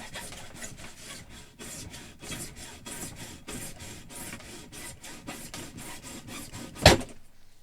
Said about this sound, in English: hacksaw blade here